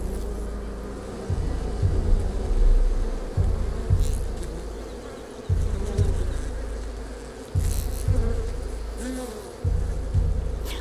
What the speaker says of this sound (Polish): Te muchy, to wszystko.